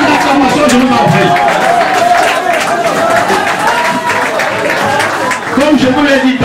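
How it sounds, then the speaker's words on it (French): Wedding guests at a Cameroonian civil marriage clap and cheer in a loud, busy crowd. Voices talk over the applause the whole time. "Sur vos acclamations, je vous en prie."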